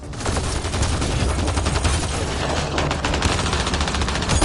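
Sustained automatic gunfire from the Mass Effect Andromeda video game, a dense, loud, continuous barrage of rapid shots with no break across the whole stretch.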